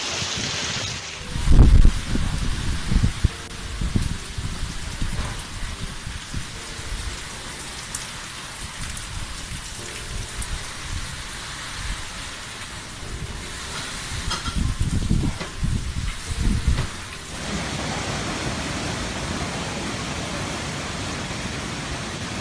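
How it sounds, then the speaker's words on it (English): Intense rain and wind from a Category 1 hurricane lashing Jamaica in August 2021, a dense, continuous roar of downpour with louder gusting surges near the start and again toward the middle, no voices. "Just look at these rains."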